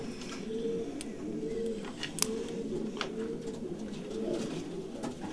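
Belgian homing pigeons coo in a loft, low, repeated rolling calls at a steady rhythm, fairly quiet and close, with a brief sharp click partway through and faint background noise.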